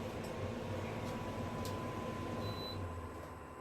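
A household air conditioner runs steadily in a kitchen, producing a constant low hum and broadband whir with a faint tonal drone, continuous and unbroken throughout with no speech.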